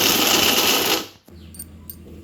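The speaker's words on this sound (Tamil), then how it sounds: "இந்த ராகி ரொட்டியை இது மாதிரி மிக்சியில் போட்டு கொஞ்சம் அரைச்சிக்கணும்" A kitchen mixer grinder whirs loudly for about a second while grinding pieces of ragi roti, then winds down and stops, leaving a quiet hum and a couple of small clicks.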